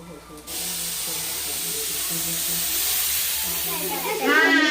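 Garlic and mustard seeds drop into hot oil for a tempering, bursting into a loud, sustained hiss and sizzle close by, while a voice talks underneath.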